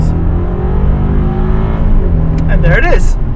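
Engine of a 2017 BMW 650i xDrive with a 445-horsepower twin-turbo V8, heard from inside the cabin as a loud, rising roar during a hard 0 to 60 run, with a voice breaking in near the end.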